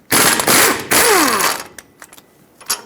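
A ratchet works loose the brake caliper bolts on a 2008–2010 Ford F-250 Super Duty, two loud bursts of rapid clicking heard up close, then a few light metallic taps.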